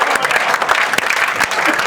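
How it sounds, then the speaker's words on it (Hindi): Steady, dense applause from a seated audience at a Hindi patriotic poetry recital fills the whole stretch, loud and continuous with scattered louder claps. "जो बैठे हैं वो हाथ उठाकर तालियां बजाते हैं"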